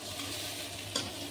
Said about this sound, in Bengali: মাছের মাথাটা ভালোভাবে ভেজে নেব।